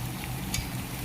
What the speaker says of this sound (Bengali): এখন আলুটা দিয়ে দিয়ে আলুটাকে ভালোভাবে ভেজে নিতে হবে।